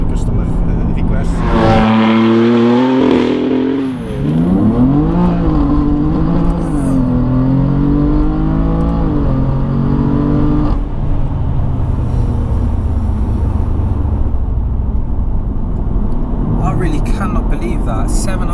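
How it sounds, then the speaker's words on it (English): A tuned BMW F80 M3 making about 700 brake horsepower accelerates hard from the lights. The engine climbs through several roaring gear pulls with rising pitch, loud and close, and people talk over it. "Cannot believe that 700 brake and you just floored it from the lights as well."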